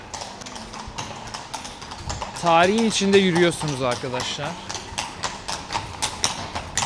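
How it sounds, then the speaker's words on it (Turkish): Horse-drawn carriages clip-clop over the paving of Krakow's Old Town, a steady run of hoof taps close by, while someone speaks over the hooves partway through. "şöyle çok güzel at arabaları geçiyor"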